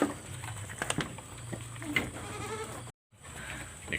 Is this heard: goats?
yes